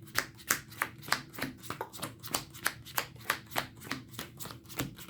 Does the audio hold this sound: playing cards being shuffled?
yes